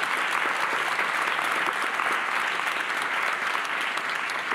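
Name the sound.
audience applause after a round table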